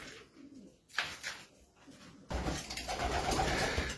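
Racing pigeons coo softly inside a loft, low murmuring calls repeating against a rising hiss of background noise.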